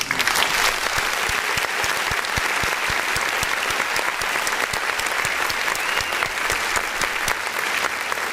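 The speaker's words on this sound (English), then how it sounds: "that was a round of applause for Laverne Turner" Steady, dense audience applause for Laverne Turner, with a few sharp nearby claps standing out over the continuous crowd clapping and no break for its whole length.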